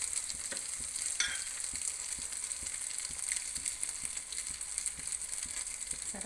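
An egg omelette fries in a pan with a steady bright sizzle, broken by small ticks and scrapes as it is spread out.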